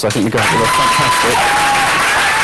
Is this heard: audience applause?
yes